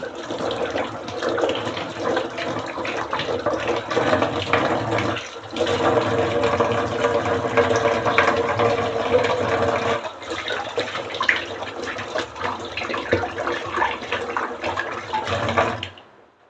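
Hands washed under a running tap: a steady, close rush of water with small shifts in splashing as the hands move, which stops abruptly at the end.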